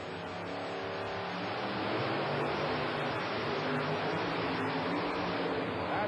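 Gravedigger monster truck driving over a line of cars at a 1990 monster truck show in Memphis, a steady loud engine roar under a broad wash of crowd and arena noise, building slightly partway through.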